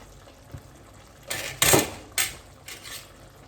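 Plain rice pilaf stirred in a pan on the stove, a few scraping, clinking bursts of the spoon against the metal at close range, with a faint background hiss between them and no talking.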